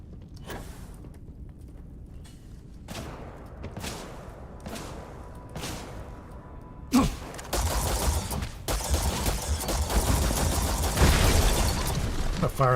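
Gunfire in the video game Starfield, a run of separate sharp shots followed by a dense, loud burst of sustained firing and impacts that continues to the end.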